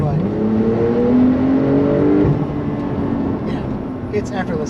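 A 2021 Porsche 911 Turbo S Cabriolet (992) with 640 horsepower accelerates from the cabin, its engine note climbing steadily for about two seconds before easing off, heard under continuous conversation.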